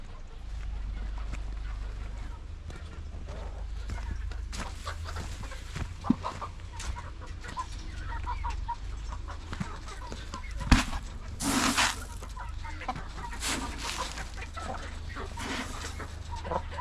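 A hen clucking softly at intervals in a rural backyard, with faint background noise and a few sharper bursts, while a voice talks quietly nearby.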